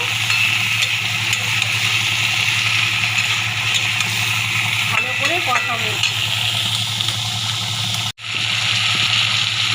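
Potatoes and ridge gourd being stir-fried in a pan for a rohu fish curry, a steady loud sizzle with scraping spatula strokes midway and a brief break near the end.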